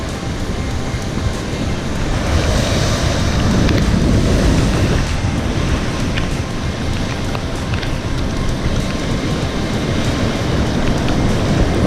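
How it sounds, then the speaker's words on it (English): Strong shore-break waves crash and wash continuously on a beach under gusting wind and stormy weather, with heavy wind rumble on the microphone. The dense roar stays loud and unbroken throughout, with no voices. "There were some strong waves coming through, but beyond the shore break it was deeper and certainly fishable."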